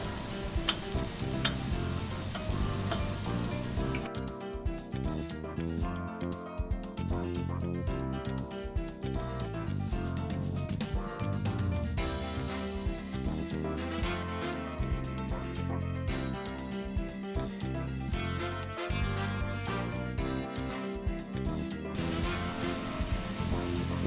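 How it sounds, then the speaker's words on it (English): Ingredients for a seafood paella sizzle and fry steadily in a pan, with occasional stirring scrapes, a continuous moderately loud sizzle with no talking. "I'm going to saute that up a little bit."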